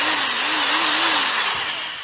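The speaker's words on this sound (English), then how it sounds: "It's just a plastic Craftsman 3/8 drill, and I've been using this," A plastic Craftsman 3/8-inch drill with a keyless chuck runs with a loud, steady whirring motor whine that wavers slightly in pitch before easing off.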